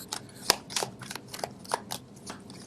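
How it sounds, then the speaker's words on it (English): Tarot cards being shuffled by hand give a series of quick, crisp riffling and snapping bursts at an uneven rhythm, close and fairly quiet, with no talking. "I don't know why people like to see the card shuffle live"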